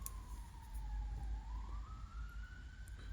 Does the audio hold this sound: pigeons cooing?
no